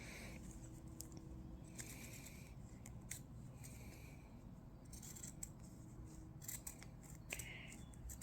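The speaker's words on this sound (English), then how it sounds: "So now I'm going to cut around the edges close to the trim." Scissors snip steadily around the trim edges of a handmade Broadway-style barrette, giving quiet, close crisp cuts in short irregular bursts with no talking.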